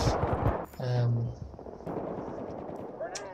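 Gunfire in the Battlefield video game on the Grand Bazaar map: sharp shots and short bursts ring out over continuous game noise, with a deeper booming blast near the one-second mark.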